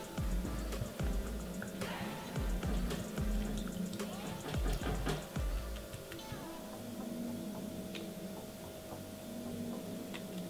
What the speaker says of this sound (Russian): Для того, чтобы легче взбить яйцо, я добавляю примерно чайную ложку воды.